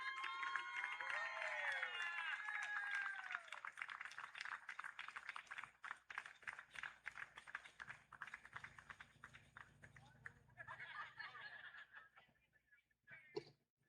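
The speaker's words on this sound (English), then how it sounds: "let's give Winter Park a round of applause and congratulations" A youth baseball crowd applauds and cheers outdoors for a team's third-place trophy at a World Series, a steady patter of scattered clapping with whistles and shouts that tapers off.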